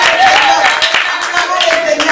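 Congregation clapping in a French-language church service honoring a servant of God, a steady run of close, dense handclaps with voices singing and calling over them throughout.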